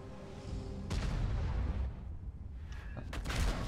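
Two deep booming tank cannon blasts from World of Tanks, each a sudden loud burst trailing off into rumble.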